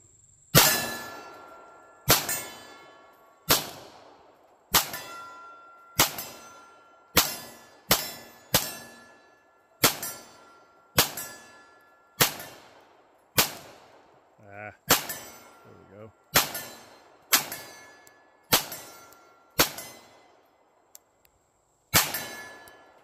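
A Stealth Arms Platypus fires outdoors at steel targets, each sharp report followed by a ringing metallic clang from the hit, around twenty evenly paced shots over about twenty seconds, close and loud.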